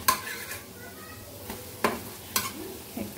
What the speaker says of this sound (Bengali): চলো ভালো করে ভেজে নেই